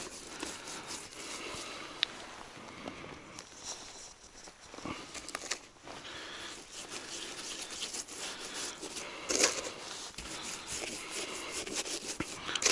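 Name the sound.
rubbing marinade into burbot fish meat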